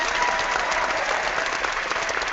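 A canned applause sound effect in EasyWebinar, dense and steady clapping from a crowd with no pauses, bright and evenly loud throughout.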